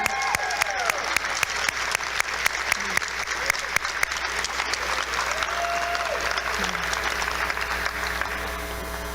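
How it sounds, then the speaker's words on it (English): Loud, dense applause from a standing audience at a gathering, sharp individual claps crackling through a continuous roar, with brief whoops and background crowd noise throughout. "everyone give them a round of applause"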